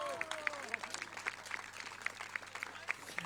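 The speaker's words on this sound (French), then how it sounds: "On applaudit Nathalie Jaume." An audience at the prize ceremony of the Ultra Marin 2021 race gives quiet, fairly distant applause with scattered claps, and faint voices mix in.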